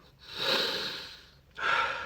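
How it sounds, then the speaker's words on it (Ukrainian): Someone breathes through one nostril as a breathing exercise, drawing a long airy inhale that fades out, then after a short pause pulling in another sharp, snorting breath, close and clear. "Закриваєш праву ноздрю і починаєш дихати лівою ноздрею."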